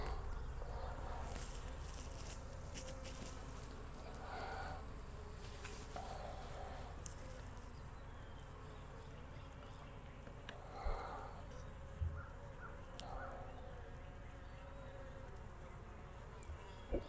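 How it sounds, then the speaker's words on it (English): Honey bees from a Langstroth nuc frame being moved into a Layens hive make a steady, dense buzz that carries through the whole stretch, with a few soft knocks and faint handling noises over it. "That is a heavy frame of bees."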